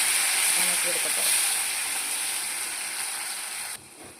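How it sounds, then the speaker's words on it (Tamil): Onions, garlic and tomato sizzle steadily in hot oil for a tamarind kuzhambu, a dense hiss filling the clip at close range before dropping off sharply near the end. "தக்காளியும் போட்டு நல்லா வணக்கி எடுக்கட்டும்."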